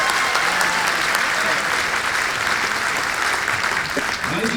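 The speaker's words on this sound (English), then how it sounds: "Now would you clap your hands if this is your first time with us?" A large crowd at an American Band College Fourth of July concert bursts into sustained, dense applause, many hands clapping together loudly and continuously throughout.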